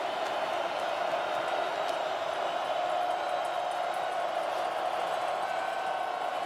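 A football stadium crowd at an NCAA FCS championship quarterfinal, Idaho versus Montana State, roars on its feet in a steady, dense wash of distant cheering that holds at an even level throughout.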